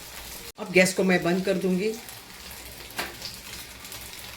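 Cumin, asafoetida and whole chillies sizzle in hot oil in a small tadka pan for dal, a steady crackling hiss running beneath someone speaking briefly and continuing after she stops.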